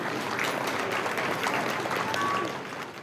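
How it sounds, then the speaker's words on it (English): Roadside crowd in Banchory applauds as the Queen's hearse passes from Balmoral, a soft, steady patter of distant clapping spread evenly throughout. "here in Bankery there was applause"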